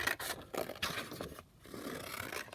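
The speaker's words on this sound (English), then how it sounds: "just going to cut one of the journaling cards out" Paper journaling card being cut out with scissors during a papercraft kit project, a close run of soft scraping snips and rustles with brief pauses, no talking.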